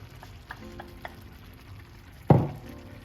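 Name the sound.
stirring mushroom and onion mixture into a porridge-like pot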